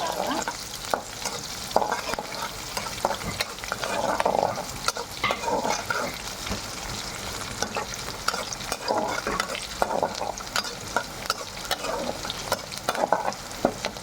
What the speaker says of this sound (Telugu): ఆనియన్స్ ముక్కలు చూడండి ఎరగడ్డ ముక్కలు ఇలా ఫ్రై చేసుకోవాలి